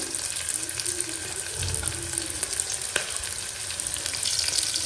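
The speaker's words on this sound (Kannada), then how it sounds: "ಈರುಳ್ಳಿ ಸ್ವಲ್ಪ ಕಲರ್ ಚೇಂಜ್ ಆಗೋವರೆಗೂ ಸ್ವಲ್ಪ ಫ್ರೈ ಮಾಡ್ಕೊಳ್ಳೋಣ ಚೆನ್ನಾಗಿ" Onions fry in hot oil for a hyacinth bean masala bath, making a dense, continuous sizzle that stays even and close with occasional faint stirring.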